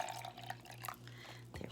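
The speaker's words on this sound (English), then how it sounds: "I'm going to hold my tea bag and just pour it from here." Homemade bubble tea poured from a tea bag into a cup gives a faint, steady trickle of liquid with small drips and a brief clink at the end, quiet and close with no talking.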